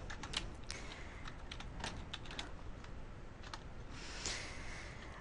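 Fingers type on a computer keyboard in a quiet room, tapping out scattered individual keystrokes including tab and enter presses, faint and close over a steady background hiss.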